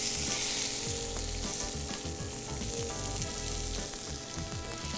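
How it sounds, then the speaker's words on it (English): A piece of lamb sears in a hot pan, giving a loud, dense, continuous sizzle and crackle up close for the whole stretch, with no voices. "So I'm gonna sear it here in order to seal it."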